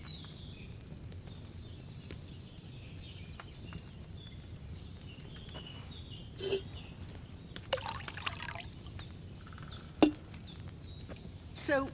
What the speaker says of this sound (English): So, what did you pour in there? Spirits?